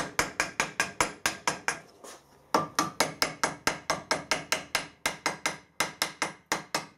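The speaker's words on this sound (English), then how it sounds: "For that we can simply use the ball end of the hammer." The ball end of a hammer taps out bolt holes in a gasket at a drain flange on a boiler feed pump casting, giving steady rapid sharp metallic strikes, close and loud, with one brief pause and no voices.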